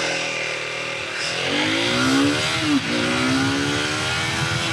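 A Triumph Thruxton 400 motorcycle accelerating hard in first gear, its single-cylinder engine note climbing steeply in pitch, dipping briefly at a shift or throttle blip, then rising again, loud and close.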